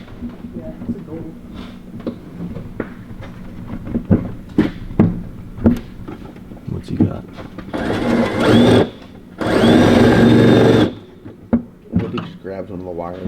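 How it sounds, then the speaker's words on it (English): A power drill whirs in two loud bursts, each a few seconds long, drilling into the back of a car engine's intake, after a stretch of clicks, clatter and handling noises. "I'm gonna drill right in the back of my intake."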